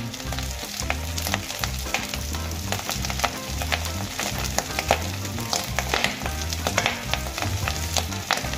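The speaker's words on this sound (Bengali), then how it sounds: "এবার আমি আবারও কিছুক্ষণ নারকেল আর চিংড়ি মাছের মাথাগুলো একসঙ্গে ভেজে নেব।" Coconut and prawn heads fry together in a pan with a steady, dense sizzle, while a spoon stirs them in repeated scrapes and taps. The sound is close and continuous, with no voices.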